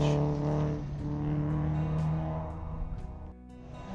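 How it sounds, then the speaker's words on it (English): A rally car launches down a stage, its engine note climbing in steady harmonic tones for a few seconds and then fading as it pulls away, heard from a distance and fairly faint. "Another car here takes off down this particular stage."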